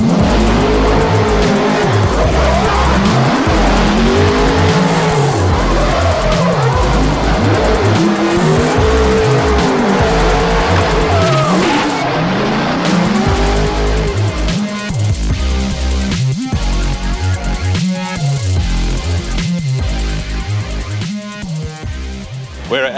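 The DW86 drift car skids with long squealing tires at LZ Fest, its engine rising and falling in repeated sweeps, then rapid revving and tire noise close by, with no talking.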